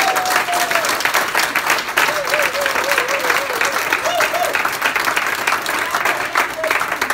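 An audience at a Christian worship gathering on a pilgrimage in Israel applauds and cheers for Jesus. Steady, dense clapping runs throughout, with voices crying out and wavering above it.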